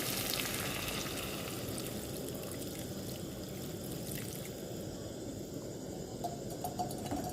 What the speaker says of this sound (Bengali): এবার আমি একটু জল ঢেলে দেবো পরিমাণ মতো।